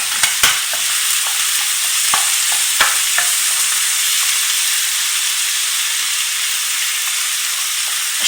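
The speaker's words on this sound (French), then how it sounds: "Je continue à mélanger ma viande pendant 5 minutes, le temps qu'elle soit bien colorée" Ground meat seasoned with pepper, nutmeg and salt browns in a frying pan for a moussaka, a loud, constant hissing sizzle close up, broken by occasional clicks and scrapes of stirring.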